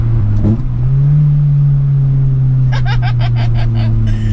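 A small Toyota Starlet hatchback engine hums steadily up close, its pitch climbing a little as it revs, with light clicking toward the end.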